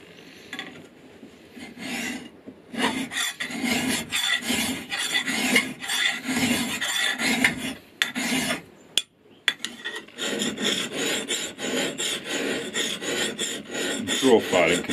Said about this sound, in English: Draw filing can be a pretty good technique for getting flat bevels